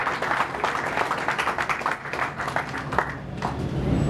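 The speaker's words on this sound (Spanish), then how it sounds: "les pediría un aplauso" An audience at a public ceremony in Tecomán, where police patrol cars and vehicles are being handed over, claps in a sustained, moderately loud round of applause.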